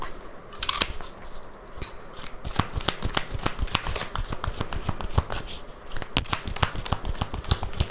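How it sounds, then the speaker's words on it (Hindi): Tarot cards are shuffled and drawn by hand, a quick run of crisp flicking and riffling snaps, close and fairly quiet, with rapid irregular taps throughout. "इसको रख देते हैं साइड में कार्ड्स को, और कार्ड्स निकालते हैं।"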